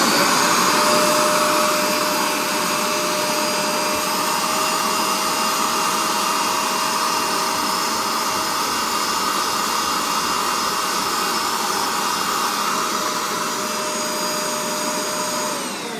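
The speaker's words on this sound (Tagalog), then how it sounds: "So tinry ko na siya ng steam vacuum." A steam vacuum runs continuously on a sofa being cleaned of a make-up stain, a loud steady roaring whine close up for the whole stretch, with no talking.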